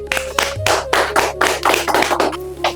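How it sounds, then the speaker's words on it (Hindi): An audience claps loudly and briskly in a string of sharp, overlapping bursts, welcoming a poet on stage at a poetry and shayari show; the applause is near and dense, with no speech over it. "एक बार जोरदार तालियों के साथ स्वागत करेंगे हम पंकज राणा जी का।"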